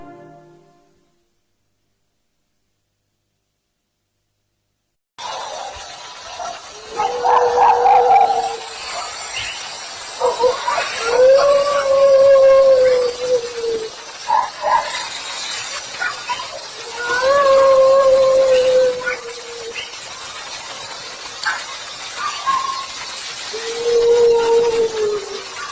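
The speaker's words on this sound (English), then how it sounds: "there's dogs barking in this one, so your dogs might go nuts" Dogs howl and bark in long, wavering, drawn-out cries that come in repeated bursts over a hissy background, after a few seconds of near silence at the start.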